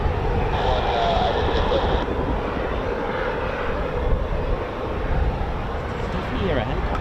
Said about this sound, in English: Definitely hear a helicopter.